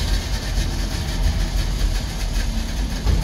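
A two-stroke DKW 3=6 Auto Union car on the move, its engine droning loud and close with a steady buzzing pulse and road rumble, no talking.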